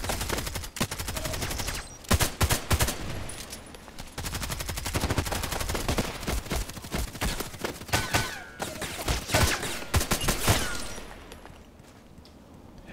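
Rapid bursts of HK417 rifle fire in a shooter game, loud sharp shots in clusters and volleys over roughly thirteen seconds, easing toward the end.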